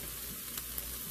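Precooked meat warms in a pan with a gentle, steady sizzle, soft and close, with a couple of faint pops rising out of the even crackle.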